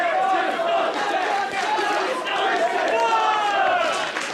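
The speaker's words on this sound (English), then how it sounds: "this crowd letting their feelings be known" Wrestling crowd at ringside during a live independent match, a dense continuous roar of cheering and shouting voices filling the arena, loud and steady throughout with swelling waves of noise.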